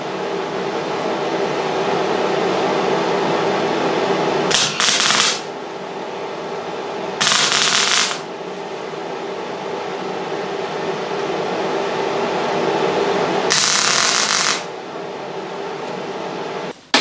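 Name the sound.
tack welding a wiper panel on a car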